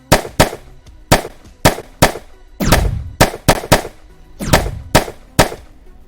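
Sharp gunfire effects for a tabletop wargame unit of Blessed Sisters firing, about a dozen loud cracking shots in an irregular burst, some in quick pairs, with no voices.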